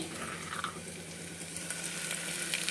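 Ginger-garlic paste fries in oil for a country chicken curry, a soft continuous sizzle and bubbling at moderate distance with no voices.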